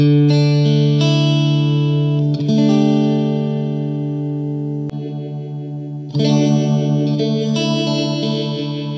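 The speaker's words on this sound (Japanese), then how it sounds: "ちょっとモジュレーションだけ。" An electric guitar plays sustained chords and single notes through the modulation effect of a Blackstar ID:CORE V4 amp, with a wavering chorus-like shimmer and a loud, full tone, played alone.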